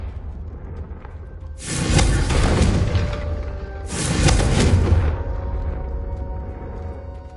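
Two booming blasts of the Confringo fire spell in the Hogwarts Legacy video game, each about two seconds long with a whooshing roar, loud and close over a steady low background.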